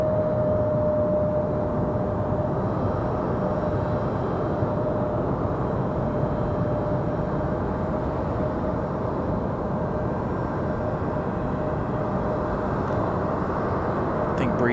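An Airbus A220 airliner of Breeze Airways at Raleigh-Durham International Airport gives off a steady, broad jet roar with a faint whine, unbroken and fairly loud, heard from some distance.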